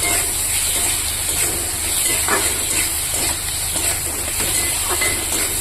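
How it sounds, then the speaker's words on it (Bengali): Onion, green chili and previously fried fish sizzle in a pan, giving a steady, loud hiss with faint stirring scrapes running through it. "পেঁয়াজটা আর লঙ্কাটাকে ভালো করে ভেজে নিতে হবে এর মধ্যে আবার দিয়ে দিলাম ভেজে রাখা মাছটা"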